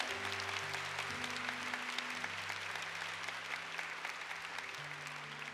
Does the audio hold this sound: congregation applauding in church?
yes